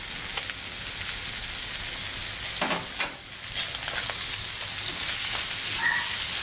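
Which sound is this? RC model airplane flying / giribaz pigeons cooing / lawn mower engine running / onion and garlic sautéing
onion and garlic sautéing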